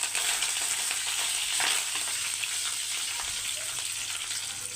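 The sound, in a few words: curry leaves sizzling in oil with fried onions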